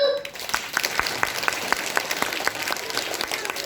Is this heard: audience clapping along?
yes